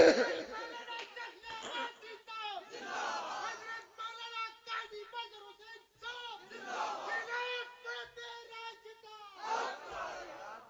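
A crowd at a 2019 religious gathering in Ghokal, Chakwal, chants slogans in repeated loud, rhythmic collective shouts that rise and fall over about ten seconds, with the speaker's voice mixed in.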